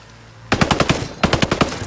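Automatic gunfire from a Ghost Recon Breakpoint firefight, two loud rapid bursts of closely spaced shots separated by a brief gap, with no talking.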